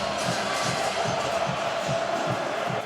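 A stadium crowd cheers steadily at a Virginia vs Cal college football game, a dense roar with a regular pulsing beat running beneath it.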